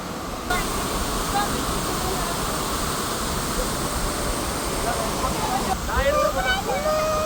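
Marmala Waterfalls in the rainy season, a continuous broad roar of falling water close by, with faint voices and a brief bird-like chirp near the end.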